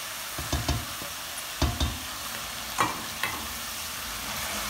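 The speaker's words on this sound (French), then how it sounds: "On mélange bien." Crushed tomatoes being stirred into a sizzling chili con carne with minced meat in a pan: a quiet constant fry hiss broken by several sharp scraping and clacking stir strokes, with no voices.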